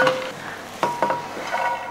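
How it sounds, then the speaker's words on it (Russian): Vegetables, including onion, tumble into a hot frying pan with scraping clatters and a few soft knocks, followed by a light sizzle beginning underneath. "мы сейчас высыпаем все это в сковородку угу. и отправим ее жарить."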